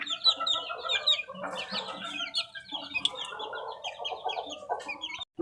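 Newly hatched chicks cheep in a lively, continuous chorus of close, high-pitched peeps, many overlapping with no pause.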